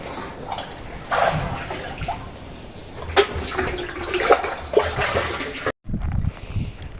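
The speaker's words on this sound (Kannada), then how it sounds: "ಭಾರಿ ನೀರು ಹಾಕ್ಬೇಕಲ್ಲೇ ಅವಕ್ಕೆ ನೀನು" Water poured onto young sesame crop plants in a field, splashing and trickling in uneven gushes with a steady watery wash throughout, close and fairly loud.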